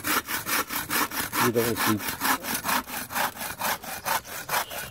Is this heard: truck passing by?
no